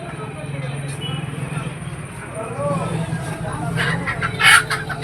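Village chickens cluck and call close by, with a rooster-like cry near the end, while people talk over them.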